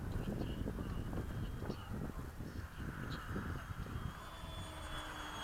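A small model jet turbine on a Flex jet runs steadily below half throttle, giving a quiet, continuous whine over a low rumble at moderate distance, with no voices.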